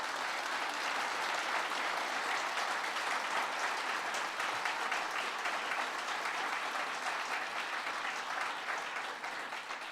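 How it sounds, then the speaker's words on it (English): A large crowd at an early education summit claps steadily and loudly for the full duration, a dense, sustained wash of applause with no pauses. "That's worth applauding."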